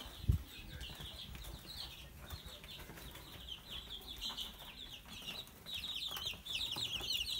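Chicks at a farm in Omsk, Russia: soft, high peeping and cheeping chirps from a small group, continuous and close, with a brief low thump at the start and some rustling underneath.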